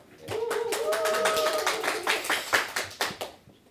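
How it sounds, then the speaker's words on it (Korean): An audience claps at a book concert, the applause rising quickly and holding steady before thinning into scattered, separate claps toward the end; a faint tonal voice-like line runs underneath early on. "여러분 박수 한번 쳐주세요."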